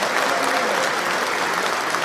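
Canned applause from a sound-effect button: a steady, dense wash of many hands clapping at even volume for about two seconds, with no voices.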